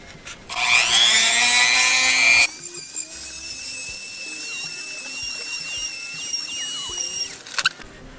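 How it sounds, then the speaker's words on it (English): Rough flesh side of deer skin leather being sanded with a power sander, a loud steady whine that rises in pitch as it spins up, then continues at a lower, even level before stopping. "Sand it off a little bit."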